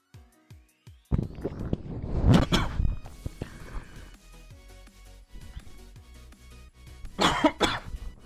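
A person coughs after drinking water from a water jug: a few harsh, close coughs in two separate bursts, with a brief rustle and quiet pauses in between.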